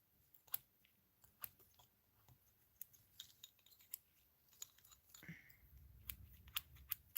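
Small scissors snip at tiny nail art decorations, a scattering of quiet, sharp clicks and cuts at uneven intervals, close by in an otherwise hushed room.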